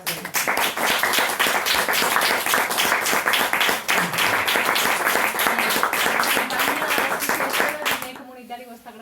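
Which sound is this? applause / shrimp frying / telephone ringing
applause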